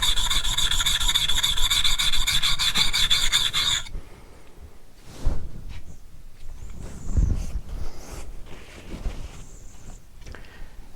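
A convex-ground blade bevel is worked on a sharpening stone, first a dense, even rasping scrape, then slower, separate rubbing strokes at close range.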